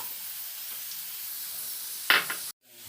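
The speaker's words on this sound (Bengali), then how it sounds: "পেঁয়াজটা একটু ভাজা ভাজা হয়ে গেছে, পেঁয়াজ আলুটা।" Onion and potato sizzle softly in a pan with a steady low hiss, broken by a brief louder scrape near the end before the sound cuts out.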